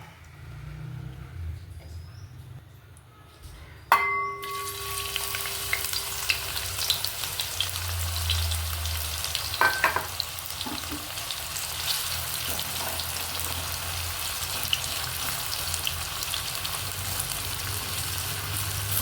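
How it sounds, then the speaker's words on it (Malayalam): Sliced onions hit hot oil and ghee for a beef biryani, bursting into a loud continuous sizzle after a quiet start, with occasional clatter from stirring, close by and without voices. "ഇനി നമുക്ക് നേരത്തെ കട്ട് ചെയ്ത് വെച്ച സവാള ഫ്രൈ ആക്കി എടുക്കാം കേട്ടോ."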